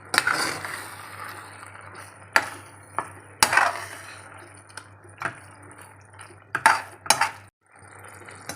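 Chicken being mixed into gravy in a pan while making white butter chicken masala: scattered metallic clinks and scrapes of a spoon against the pan, with some louder knocks, close by over a low hum.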